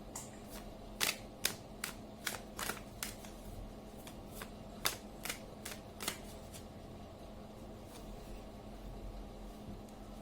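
A deck of tarot cards is shuffled in a quiet room, giving a run of about a dozen crisp, close slaps and riffles at an uneven pace that fade out after the first six seconds.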